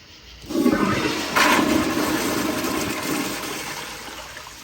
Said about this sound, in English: so it looks like we'll have to do one more flush